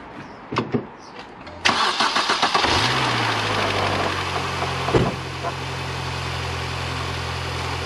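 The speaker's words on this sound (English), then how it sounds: "What I need to do now is just fire the car up." A 2001–2006 Mini One/Cooper R50 hatchback with a 1.4 or 1.6 litre petrol engine cranks briefly and catches, then settles into a steady idle after a few loud bursts, with a clunk partway through.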